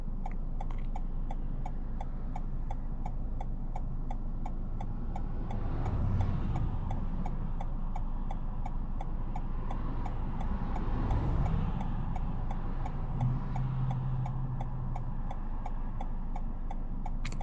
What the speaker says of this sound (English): hopefully you can tell the road noise here and the cars going by and just the outside noise